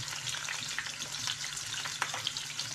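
Onion goes into oil where ginger and garlic are already frying, giving a soft continuous sizzle with faint stirring ticks and a low steady hum underneath, close but quiet, with no talking.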